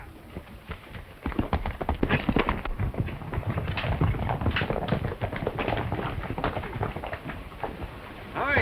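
Fast hoofbeats of a galloping horse in the 1934 Western film In Old Santa Fe patter steadily, mixed with other noise and a voice partway through.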